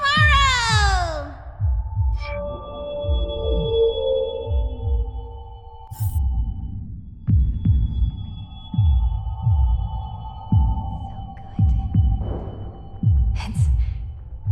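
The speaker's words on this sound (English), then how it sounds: "It's as if I can hear the sound of my heart beating." Heartbeat sound effect from the video game Honkai: Star Rail, a steady run of low, muffled thumps under swelling synth tones and bright chimes.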